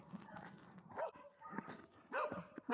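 A dog barks three or four times in short, spaced bursts on a snowy day, fairly faint and without talk over it.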